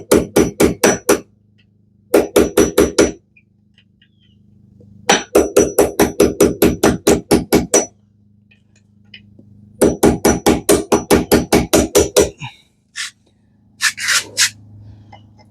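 Close, loud hammer blows land in rapid bursts of about six to ten strikes, with short pauses between, while work goes on to lift a Johnson 150HP outboard motor.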